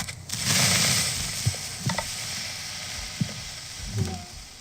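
Minecraft creeper fuse triggered by a pressure plate in a player's base, a loud continuous hiss in the video game swelling early on, with a few soft clicks and thumps underneath, no talking.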